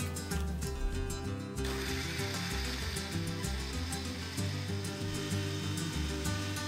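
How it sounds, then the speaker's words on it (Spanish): A blender whirring through roasted chiles, onion, raw garlic and water for a Mexican salsa, a steady loud motor drone with a harsh grinding edge throughout. "y lo licuamos."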